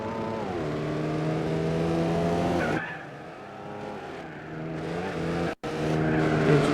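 Gran Turismo 4 race cars, a Pagani Zonda and a GT car, roar loudly through a circuit with steady high-pitched engine drones, a gear shift and a brief cut near the end, then full power resumes.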